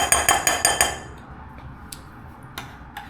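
A spoon clinks against a bowl as berry protein overnight oats are stirred, a quick run of sharp metallic taps that then fades to a few scattered clicks.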